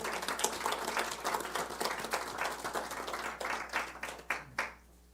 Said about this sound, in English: So let's welcome Carmen with a video club applause.